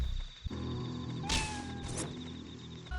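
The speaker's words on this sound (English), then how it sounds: "this is the cat." A cat meows in the Kamiwaza: Way of the Thief video game, one short rising cry in the middle of a steady game background hum with music.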